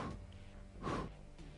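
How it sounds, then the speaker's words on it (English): Breath pushed out through pursed lips, a faint airy whoosh swelling briefly in the middle of a quiet stretch. "You should be able to hear the air rushing out of your pursed lips as a whooshing sound."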